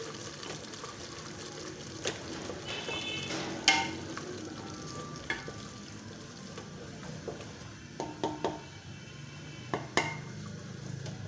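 Kachnar gosht (orchid tree buds with meat) frying in ghee, a soft low sizzle under scattered spoon scrapes and clanks against the pot, with sharper knocks at irregular intervals.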